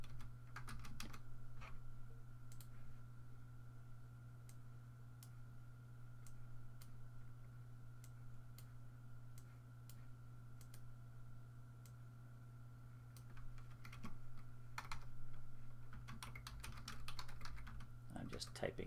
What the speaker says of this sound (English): I'm just typing in an address.